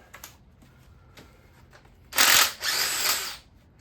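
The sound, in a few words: power drill removing bolts from engine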